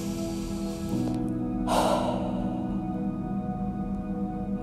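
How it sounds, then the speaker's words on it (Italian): A single deep breath during a guided meditation, one strong gasping inhale or exhale rising briefly in the middle over a soft, steady background hum. "Fai un forte respiro."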